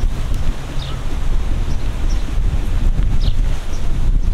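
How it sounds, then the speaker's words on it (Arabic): Wind and water on the bank of the Nile river, with strong gusts buffeting the microphone over a low, constant rush of water, loud and unbroken with no talking. "نهر النيل اهو يا جماعه"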